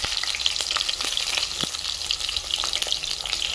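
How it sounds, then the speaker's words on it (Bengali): Eggplant pieces sizzle and spit steadily in hot oil in a home kitchen pan, a dense continuous crackle with brief sharper pops throughout. "তেলটা গরম হয়ে গেছে, এই যে বেগুন দিয়ে দেব আগে তেলে"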